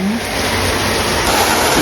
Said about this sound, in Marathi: जोराम पाऊस पडतोय बाहेर